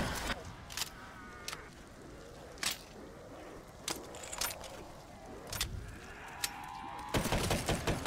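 A gun fires in a zombies video game: sharp shots come singly at irregular gaps over a steady background, then a fast burst of rapid fire closes the clip.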